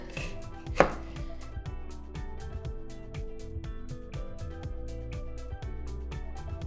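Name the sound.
chopping shadow benny (culantro) on a board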